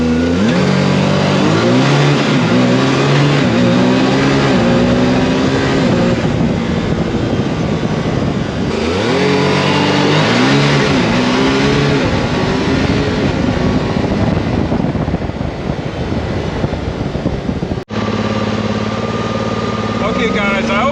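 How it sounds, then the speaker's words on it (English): A Can-Am Maverick R side-by-side fitted with a full RPM exhaust and E-Valve revs and accelerates hard, the loud close engine note rising and falling through repeated throttle sweeps over about twenty seconds, with a brief cut near the end. "you can also hear the sound from the exhaust"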